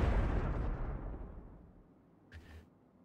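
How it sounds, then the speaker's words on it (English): A cartoonish video game explosion from Super Mario RPG (2023), a loud deep rumbling blast that fades out over a few seconds, followed by a brief faint pop near the end. "Also, it's a harmless explosion."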